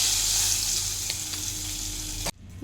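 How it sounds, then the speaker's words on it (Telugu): Chili powder and salt hit hot oil in a pan with a loud, steady close sizzle of frying that cuts off abruptly near the end. "ఈ ఆయిల్లో కారం వేస్తున్నాను అలాగే సాల్ట్ వేసుకోవాలి"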